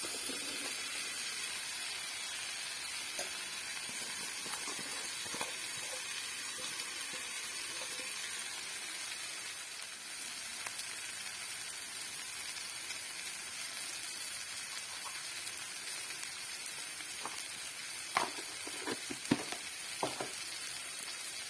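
Chickpeas fry alongside taro root in a pan, giving a steady, moderate sizzling hiss throughout. A few louder crackles and stirring clicks come toward the end.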